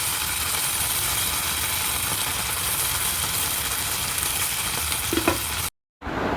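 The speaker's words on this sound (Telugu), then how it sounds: "tomato sauce and red chilli sauce రెండు వేసుకొని ఈ విధంగా మంచిగా కలిపేసుకోవాలన్నమాట" Vegetables tossed with tomato sauce and red chilli sauce for honey chilli potato sizzle and scrape in a pan, a dense, even frying hiss that runs without a break and then cuts off abruptly.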